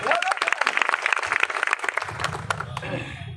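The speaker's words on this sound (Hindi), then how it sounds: "इसलिए एसपी साहब के लिए तालियां बजा दो" Crowd clapping for the SP at a protest-ending gathering in Dungarpur, a dense patter of hands that fades after a couple of seconds into a low hum with murmuring voices.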